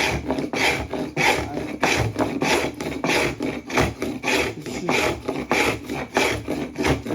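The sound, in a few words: travisher hand tool shaving wooden chair seat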